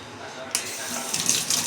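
Bathwater splashes and rushes in a tub where a small child is playing, a sudden burst of wet noise that keeps churning and sloshing close by.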